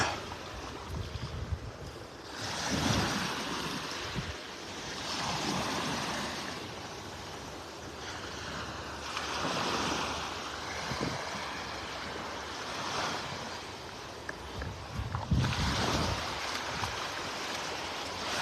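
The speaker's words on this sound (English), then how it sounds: "See the waves breaking over the sandbar out there in the distance." Waves break over a distant sandbar on a windy day at a North Naples, Florida beach, a broad roar of surf and wind rising and falling in slow surges, with no talking.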